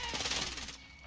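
Rapid gunfire crackles through a Call of Duty Warzone firefight, a dense burst of shots at close range lasting about a second before trailing off.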